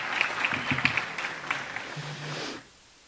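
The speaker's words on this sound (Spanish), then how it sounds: "también se merece un fuerte aplauso, por favor." An audience at a Pereira mayor's public announcement event applauds, a moderate wash of scattered claps under a low voice, then cutting off abruptly near the end.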